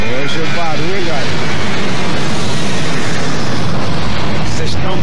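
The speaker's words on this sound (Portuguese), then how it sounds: "Quem vive perto do aeroporto de Congonhas precisa suportar o movimento intenso de aviões." Low-flying airplanes near Congonhas airport in São Paulo make a loud, steady roar that fills the whole stretch, with brief voice-like sounds near the start.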